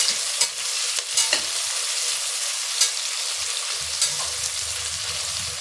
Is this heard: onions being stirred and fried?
yes